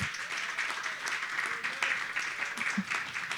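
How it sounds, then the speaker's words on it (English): An audience at an innovation keynote gives a moderate round of applause for a venture founder, with scattered clapping that sounds somewhat distant and a faint voice murmuring underneath. "A round of applause for Mac."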